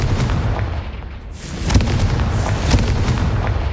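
Explosions from the Confringo spell in Hogwarts Legacy, loud booming bursts over a dense rumbling game soundscape, with sharp cracks repeating about once a second.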